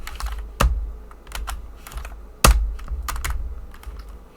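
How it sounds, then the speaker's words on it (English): Keys on a computer keyboard clatter in quick, irregular runs of close taps, broken by two sharper, heavier thumps, with short pauses between bursts. "You can type in settings."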